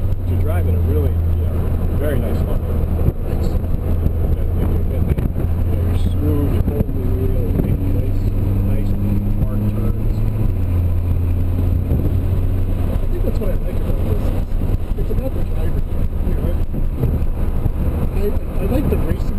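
Car lapping the NJMP Thunderbolt race track during a tuning track day, with a steady, loud engine drone and shifting revs heard from inside the car, while people talk over it throughout.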